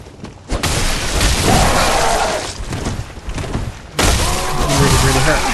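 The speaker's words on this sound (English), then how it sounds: "Here's the gunfire." Loud, dense bursts of gunfire and heavy impacts from the video game Bloodborne fill the clip, with two sharp onsets and a continuous barrage of crashing combat noise, with a voice in places.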